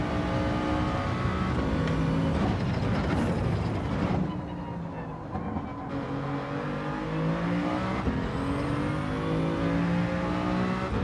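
BMW Vision Gran Turismo race car in a racing game, its engine revving hard and climbing through gears with steady harmonic whine, brief dips at shifts, loud and close throughout.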